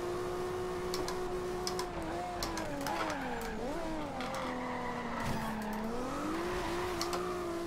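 A GTR race car engine in a Fast and Furious driving game drones and whines steadily, its pitch sliding up and down through gear changes, with faint ticking and tire noise over the continuous close engine sound.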